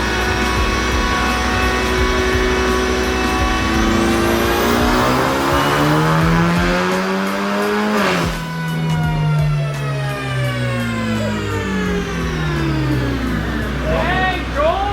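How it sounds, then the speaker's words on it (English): A turbocharged 2012 V6 Mustang revs hard on a chassis dyno, its engine note climbing and falling through long sweeping pulls, loud and close, with people talking faintly in the background. "I brought a 2012 V6 Mustang with a turbo"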